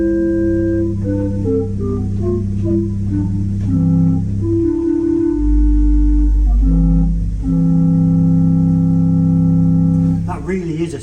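Deep, rumbling notes from the 16-foot Bourdon stop of an 1899 J.J. Binns pipe organ sound in a steady sequence of sustained tones, with a very low bass note swelling in the middle and a short noisy burst at the end.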